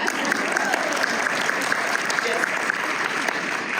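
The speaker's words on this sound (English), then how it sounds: "so clap, clap for me." A conference audience claps at a literacy keynote, a brief steady patter of many hands across the hall, moderately loud, with a few sharper individual claps standing out near the front.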